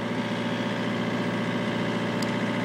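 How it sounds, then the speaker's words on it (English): Excavator diesel engine idling steadily, a constant low rumble with mechanical vibration and hum, close and loud throughout with no voices. "Pull this all the way back, the machine will rev up."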